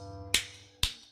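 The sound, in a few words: slap of someone being hit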